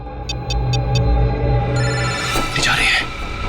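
A telephone rings on an outgoing call in a crime drama scene, giving four short, evenly spaced electronic tones near the start while a low hum and voices continue underneath.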